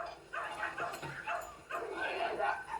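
A red retriever dog gives a few soft barks and whimpering yips at close range, mixed in with people talking nearby.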